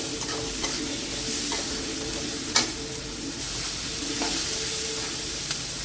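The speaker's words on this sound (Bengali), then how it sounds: "এটাকে ভালো করে ভাজা ভাজা করে দিতে হবে" Vegetables with turmeric and sugar fry steadily in a pan for flattened-rice pulao, a continuous sizzle broken by occasional scraping clicks of a spatula stirring, with no voices.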